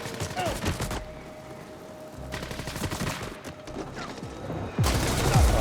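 A turret in the video game The Ascent fires in several dense bursts separated by short lulls, loud and close, ending in a heavier barrage.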